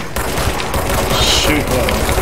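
Rapid gunfire from combat in the video game Control, loud and continuous with a dense rattle of shots and a brief higher whine, with a voice speaking over it.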